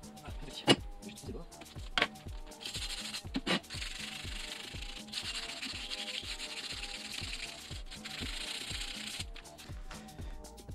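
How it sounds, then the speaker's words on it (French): A power sander buzzing and rasping against a car wheel rim in repeated strokes, with a few sharp knocks and faint background speech. "j'ai commencé à la main mais finalement je continue à la ponceuse"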